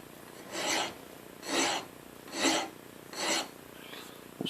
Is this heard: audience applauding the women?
no